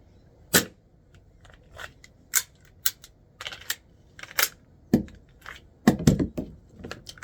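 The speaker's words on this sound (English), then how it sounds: "Get a dry fire shot." Kizuna Works KW-15K airsoft pistol dry-fired and handled, a series of sharp mechanical clicks and snaps at irregular intervals, close by and with no talking.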